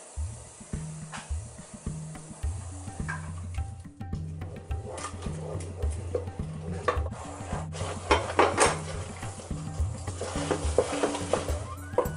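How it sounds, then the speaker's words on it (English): A spoon stirring flour into coxinha dough in a pot, with continuous scraping and rubbing strokes in a steady rhythm, close and moderately loud, with occasional knocks against the pot and no talking. "So little by little, stir continuously and add the flour."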